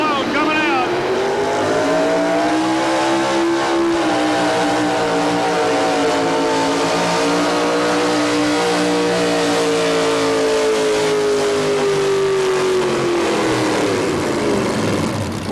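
A 1987 tractor pulling truck called Whiplash from Harrodsburg, Kentucky, driven by Jim McGlone, roars down the pull track with a loud, sustained engine howl whose pitch climbs then slowly sags as it runs out of power, with an announcer talking over it.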